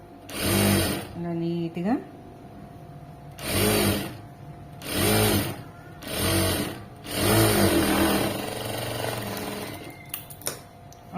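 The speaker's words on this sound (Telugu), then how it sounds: "నీట్గా స్టిచ్ చేసుకుంటూ వెళ్ళండి." A sewing machine stitches piping onto fabric in five or six short, loud, close bursts of rapid whirring separated by pauses, with a person talking briefly between runs.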